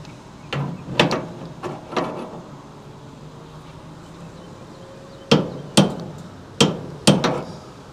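A wrench tightening a flare fitting on an HVAC refrigerant lineset, giving sharp metallic clicks and clanks in two bursts, a few spaced strikes early and a tighter cluster near the end, against a quiet room.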